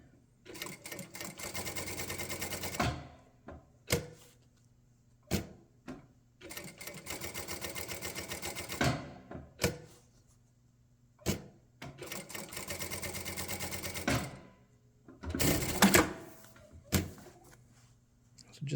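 A Jack A5E-A industrial sewing machine runs in several loud, steady bursts of rapid stitching separated by short pauses and mechanical clunks, close to the microphone.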